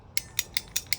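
A small ratcheting cutter clicks through 1/4 inch irrigation tubing, giving five crisp, evenly spaced ratchet clicks close up over a quiet background.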